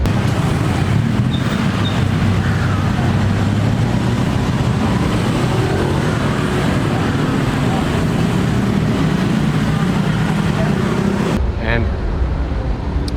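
Busy street traffic in Bangkok, Thailand: a steady, loud roadway roar of passing vehicles that continues without a break, with engine rumble throughout.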